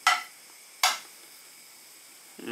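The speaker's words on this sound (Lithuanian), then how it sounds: "Ir pakepsim vištieną." Chicken pieces hitting hot oil in a preheated frying pan for a stew, giving two sharp sizzling bursts that fade, then a third starting at the end, close and loud with no talk.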